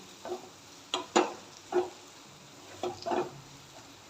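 A spatula scrapes and stirs scrambled egg bhurji in a frying pan, several soft separate scrapes over a faint sizzle, with no talking.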